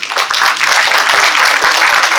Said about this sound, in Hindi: इनके लिए एक बार ताली हो जाए